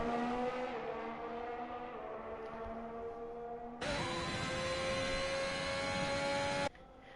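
Race cars in F1 2021, the video game, pull out of the pits at the Mexico circuit with a steady, high engine whine. The whine jumps louder and brighter midway, holds, then cuts off abruptly near the end.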